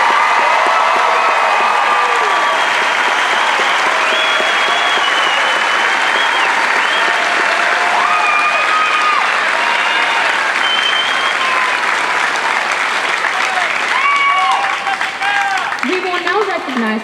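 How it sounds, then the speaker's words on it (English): Loud, sustained applause from a large crowd at an Air Force basic military training coin ceremony, honouring Army graduates, with continuous dense clapping and some cheering throughout. "How about a nice round of applause for all of our Army graduates?"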